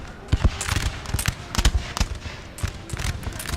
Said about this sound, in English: Ooh, another howitzer shell right there on that Polish Legion.